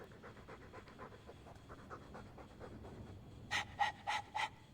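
Close, rhythmic panting from a dog continues for several seconds, followed by a few louder, sharper breathy bursts at the end.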